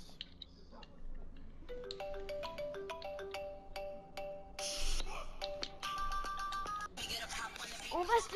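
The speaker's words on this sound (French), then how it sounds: "On va se laisser sur cette sonnerie" Electronic phone ringtone melody playing in stepped tones, bright and fairly loud, rising to a busier burst toward the end, with faint background sounds underneath.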